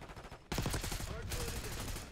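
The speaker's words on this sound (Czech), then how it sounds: "Zase, já mu střílím do hlavy." Call of Duty Black Ops 6 gunfire erupts abruptly after a quiet moment: rapid, close shots crack in a quick burst, followed by lingering game noise while someone speaks over it.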